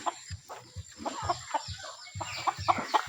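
Chickens and roosters in a coop cluck repeatedly in short, uneven bursts, with sharper calls clustering toward the end, fairly close and moderately loud.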